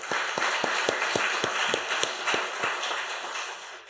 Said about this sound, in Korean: 박수 한 번 더 치세요.